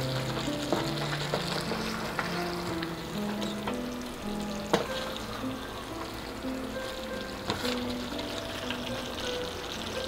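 Chicken with whole garam masala spices sizzling steadily in a pan while being gently stirred, with occasional scraping and clinks of the spoon against the pan, close and continuous, no talking.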